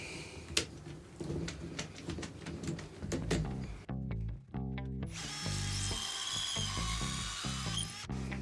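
A power drill whirs in bursts, with ratcheting clicks and woody crunching as it works pallet wood for a bed frame, loud and close, stopping and starting several times.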